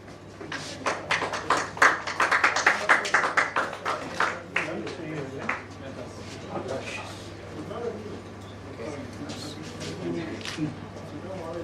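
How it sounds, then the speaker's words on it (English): Audience applause for a quiz team at a banking quiz semi-final, a burst of clapping that peaks early then fades into softer scattered claps and murmuring. "let us please give them a huge round of applause"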